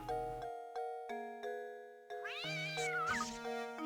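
A voice imitates a cat, giving a warbling meow in the middle of a Professor Layton and the Curious Village game scene, over steady ringing chime music.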